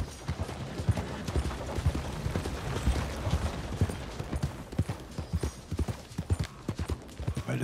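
In Red Dead Redemption 2, a ridden horse's hooves clop steadily and close by, a fast, busy rhythm of strikes running under a faint game ambience.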